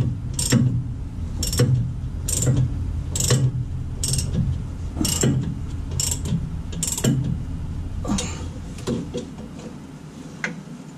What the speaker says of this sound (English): I'm going to snug them first with the half inch ratchet